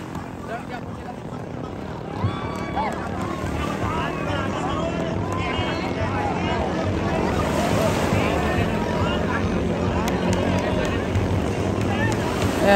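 Five bangka racing boats run their engines on the sea at a General Santos race, a steady droning roar mixed with wind and wave wash, while a commentator talks throughout.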